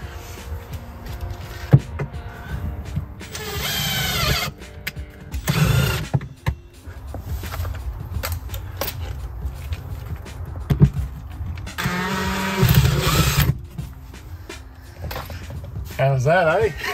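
An electric drill with a blunt bit works into a pre-started hole on an Emu Xtraveller hybrid camper, whirring in several separate bursts, with people talking between them.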